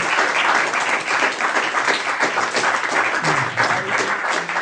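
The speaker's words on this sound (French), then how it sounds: "on va d'abord applaudir Patrick Osmond" An audience claps steadily in a hall at a French voice-acting salon, welcoming an arriving guest with sustained, moderately loud applause throughout.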